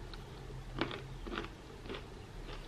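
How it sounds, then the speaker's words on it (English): Someone takes crunchy bites of fried chicken drumstick from El Pollo Loco, with four or five crisp crunches spaced about half a second apart, close to the mic and fairly quiet, with no speech. "Crunch, crunch."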